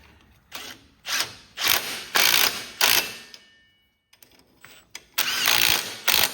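Metal ratcheting and clicking while locking nuts are tightened on a Cub Cadet 1606 garden tractor brake, coming in several close bursts separated by short pauses, with no talking.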